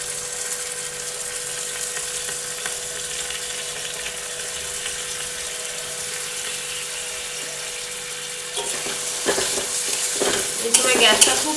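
Beaten sour curd with a little salt goes into frying masala and is stirred, a long steady sizzle that turns to louder wet scraping and clinking stirs near the end.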